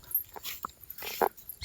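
A dog in a village gives a few brief, faint whimpering yips amid quiet outdoor background noise.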